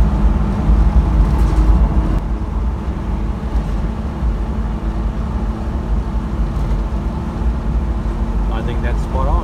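A Toyota Landcruiser 60 Series rolls along a flat road on a test drive after a steering alignment, its steady low engine and road rumble continuous and close throughout, with some talk over it.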